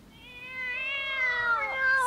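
A kitten in an audio drama gives one drawn-out, rising-then-falling meow, close and clear against a quiet background.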